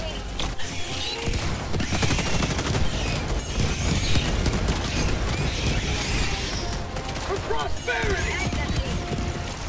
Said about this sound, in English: now the rocket turret's doing its job